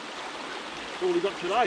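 A forest creek flows as a steady broadband wash, close and continuous, with someone briefly speaking over it near the end.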